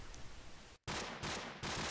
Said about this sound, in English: Bit of gunfire. Who's shooting that weapon?